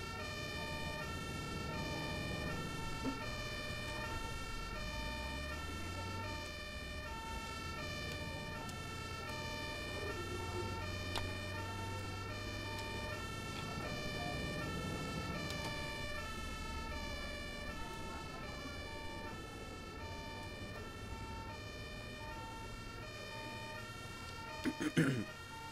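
An ambulance siren in the bus-driving video game Omsi 2 wails continuously in a repeating two-tone pattern over engine rumble, with occasional voices speaking underneath.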